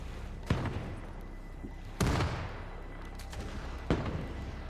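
Three heavy ship cannon blasts from Holdfast: Nassau 1715, fired in a close-range pirate versus British naval battle. They land about two seconds apart as loud booming reports, each trailing off into a rumbling tail over a constant background of battle ambience.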